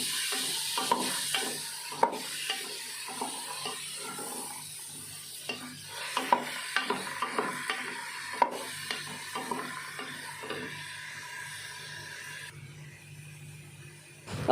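Soaked chickpeas stirred and fried with browned onions in a pan, a lively sizzle broken by repeated scraping and tapping of a spoon against the pan, close and steady before fading near the end.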